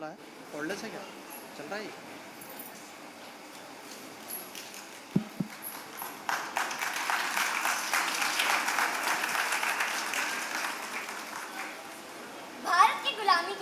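Audience applause for child performers waiting backstage at a Hindi Akademi theatre workshop play at Pyarelal Bhawan, a steady crowd clapping that swells in the second half and mixes with some voices and a brief louder burst near the end.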